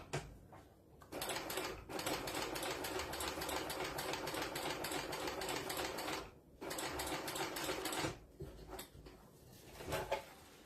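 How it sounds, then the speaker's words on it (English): A sewing machine runs a second reinforcing row of stitches beside an existing seam on a fabric book sleeve. It whirs steadily and close up in long continuous bursts, with brief pauses between runs and no talking. "I'm just going to do another row of stitching close to that row that's already there"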